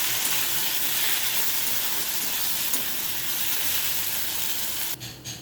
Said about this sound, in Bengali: এটা কিছুক্ষণ কষে নেব।